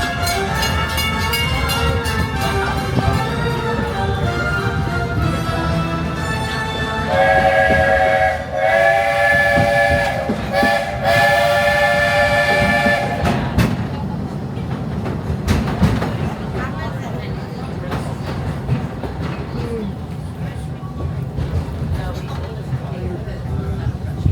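Walt Disney World Railroad steam train on its Magic Kingdom loop, rolling along with a rhythmic clatter and sounding a loud multi-tone steam whistle in bursts, with background music and park ambience mixed in.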